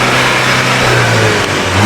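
A 2018 Audi A5 Sportback S line engine is revved up close, a loud sustained roar that holds high, dips briefly near the end and then swells again.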